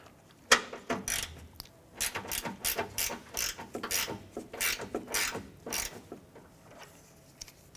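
Rapid ratchet clicks in quick bursts as a 10mm bolt holding the washer fluid reservoir is loosened on a 1994-2004 Chevy S10, close and fairly loud with short pauses between strokes.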